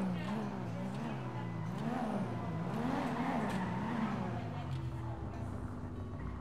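A Toyota Supra's engine in the video game GTA V drones and revs with a rising and falling pitch, accompanied by faint tire noise and people talking over it.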